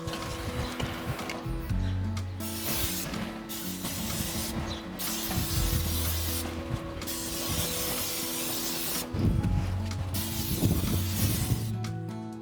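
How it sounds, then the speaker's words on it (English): Canola oil spray hissing onto a barbecue grill in several short bursts separated by pauses, close and fairly loud over a low background hum. "So I just use canola oil spray"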